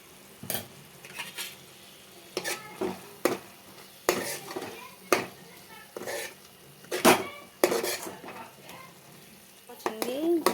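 Spinach and onion curry stirred in a pan, a series of distinct scraping strokes and metal clanks at irregular intervals over a gentle sizzle, close by, with brief voice sounds near the end.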